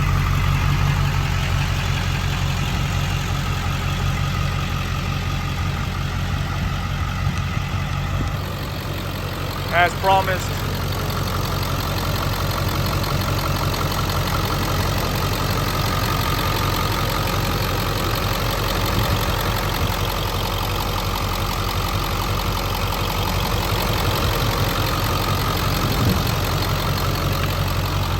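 A 2002 Ford Excursion Eddie Bauer with a 7.3L Powerstroke diesel idles warm, not cold-started, a steady low rumble running throughout while someone speaks briefly over it.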